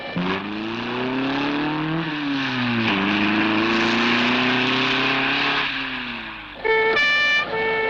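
A car engine roars at full throttle during a chase, the pitch climbing and dropping as it shifts gears, loud and sustained, with a brief higher tone near the end.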